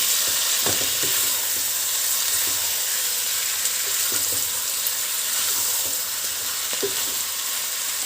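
Meat and spices sizzle and fry in hot oil for a meat biryani, a loud continuous hiss throughout with occasional stirring clicks, close up with no talking.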